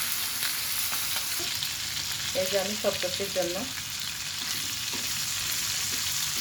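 Hilsa fish frying in oil at home, a steady broadband sizzle throughout with a short burst of voiced talk over it midway.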